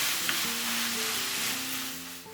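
Onions sauté in a pan for a hunter pastry filling, giving a steady close sizzle and crackle of frying throughout, alone without talk.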